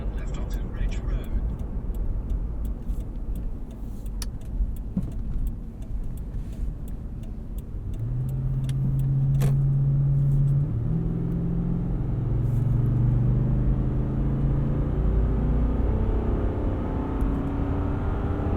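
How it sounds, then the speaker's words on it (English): V8 engine of a 2012 Lexus GX 460 while driving, a low steady rumble with a deepening hum as the engine pulls, heard from inside the cabin under occasional speech. "Still love the way this V8 sounds."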